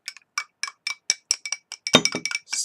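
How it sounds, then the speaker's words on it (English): A spoon clinks repeatedly against a glass while a honey mixture is stirred, a quick run of bright, close taps at an uneven rhythm, with no voices. "Stir the mixture together"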